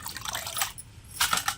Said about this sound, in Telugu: శుభ్రంగా నీటితో కడుగుతున్నానండి